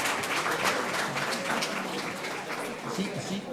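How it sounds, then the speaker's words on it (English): An audience claps steadily in a dense burst of applause, filling the room with continuous hand claps for a few seconds. "Let's give her a big applause."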